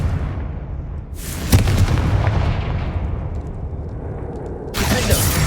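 Fiery blasts of the Confringo spell in Hogwarts Legacy burst out as booming explosions, one big hit followed by a second loud one near the end, with game sounds around them.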